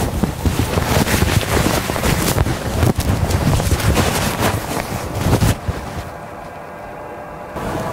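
Tecmen Freflow powered air respirator blower running with its hood, a loud steady airy roar that drops to a quieter hum near the end.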